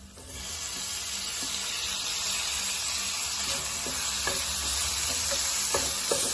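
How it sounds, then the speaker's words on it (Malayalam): Tomatoes with onions, green chilli and curry leaves sautéing in a pan, a steady close sizzle with light stirring scrapes and occasional ticks throughout, no voices. "തക്കാളി ഇട്ടിട്ട് നന്നായിട്ട് വഴറ്റി കൊടുക്കുക."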